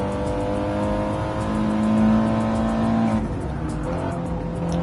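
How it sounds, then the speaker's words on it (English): Race cars in a TCR racing video game drone loudly and continuously, engines holding steady pitches with one rising whine, and tires squealing as the pack of cars takes a turn. "Static will lead them through into turn 1, but not without a train of cars all from behind him"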